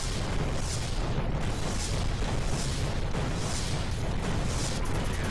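Heavy gunfire and explosions pound a tank in a retro commando shooter game, a dense, continuous roar of booms and bursts with periodic louder blasts, no voices heard.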